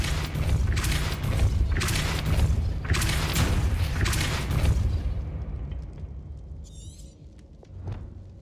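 In the Hogwarts Legacy game, the Depulso spell sets off a run of heavy booming blasts, four or five rapid crashing bursts with rumble, then a fade to quieter debris, a soft magical shimmer and a final thud.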